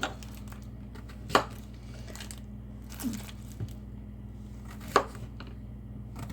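A knife cuts through a large crookneck squash, giving a few sharp, separate chopping thuds on a board at steady intervals, close and clear, with a low hum underneath and no talk.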